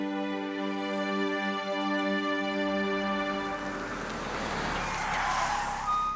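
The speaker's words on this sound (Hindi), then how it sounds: "वकील साहब की गाड़ी आ गई" A lawyer's car pulls up, its engine and tires rising into a hissing, skidding rush near the close under a sustained musical tone, heard alone without voices.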